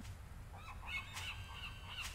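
A bird call from the video game Jurassic Park: Trespasser, a few short high chirps repeating over a low rumbling ambient background, faint and with no talking.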